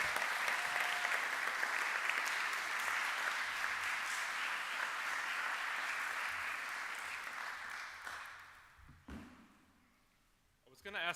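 Audience at a fine arts awards ceremony applauding faculty as they walk down the aisle, sustained clapping from a large crowd that fades out toward the end, with voices heard in the room.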